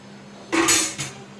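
A spoon clatters against a pot of dal. Two short metallic knocks and scrapes sound close by, with quiet room noise before and after.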